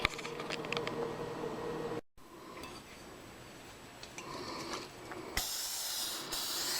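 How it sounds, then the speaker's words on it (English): Two bursts of hissing aerosol non-stick cooking spray into a 13 by 9 inch brownie pan, close and fairly loud, separated by a brief pause, with faint clinks in between. "I will be spraying it with some non-stick cooking spray."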